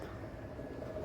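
Pigeons, including a caught Absi pigeon, cooing softly outdoors, with a low, muffled coo under steady background noise.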